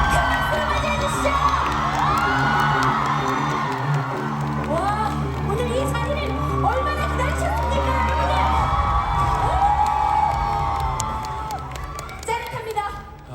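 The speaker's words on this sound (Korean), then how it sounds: "큰 박수로 맞이해주시죠!" Fan meeting crowd for actor Park Hyung-sik cheering, screaming and applauding as he is welcomed, loud and sustained, with high-pitched shrieks, a deep musical drone and an announcer speaking over the noise.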